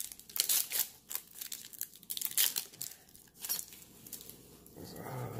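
Crinkling and tearing of a foil trading card booster pack wrapper being opened, with sharp rustling bursts and crackles at close range, fairly quiet with no speech.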